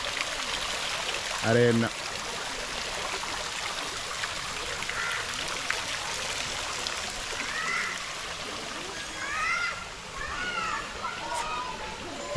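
Water runs continuously from a statue fountain beside a well at an elephant park, a soft steady trickle heard under a person talking throughout.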